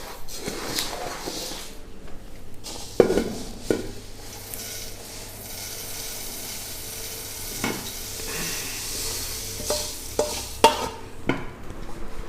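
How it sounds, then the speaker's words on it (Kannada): Sambar powder spices being dry-roasted and stirred in a pan, with a soft continuous sizzle, scraping spoon strokes and occasional clinks of utensil against metal, close and fairly quiet. "ಸ್ವಲ್ಪ ತಳದಿಂದ ಈ ಥರ ತಿರುಗಿಸ್ತಾನೆ ಇರಬೇಕು. ಆವಾಗ ಎಲ್ಲ ಕಡೆ ಚೆನ್ನಾಗಿ ಫ್ರೈ ಆಗುತ್ತೆ."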